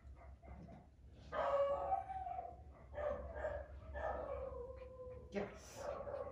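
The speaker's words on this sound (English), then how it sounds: "she barks all the time" A dog barks and howls in drawn-out, wavering vocal bursts with short yips, close and clear, with several pauses between calls.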